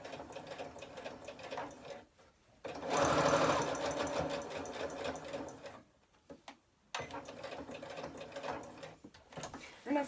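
Butterick EB 6100 sewing machine stitching a bag strap, a steady mechanical whir that runs in several stretches broken by brief pauses, close and loud with no talk.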